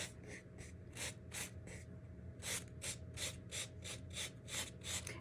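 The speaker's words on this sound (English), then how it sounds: "And I'm just lightly touching this, and it's just sanding away the napkin." Light hand sanding over the edges of a decoupaged napkin on a craft piece, a series of close, soft rhythmic scratchy strokes in short bursts, alone without talk.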